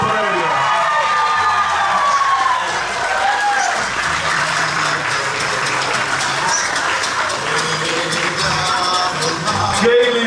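Crowd applause and cheering at a corn festival in San José Las Flores, Chalatenango, rising for a local community representative; dense, sustained clapping fills the whole stretch with shouts mixed in and a voice over a loudspeaker at times.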